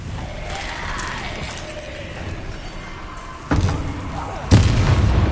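A Confringo blasting spell bursts in Hogwarts Legacy, landing as a sudden loud boom followed by a second heavier blast a second later, each leaving a rumbling tail over steady game ambience.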